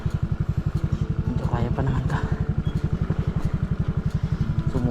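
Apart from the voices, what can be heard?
motorcycle engine straining, tyre skidding on slippery uphill trail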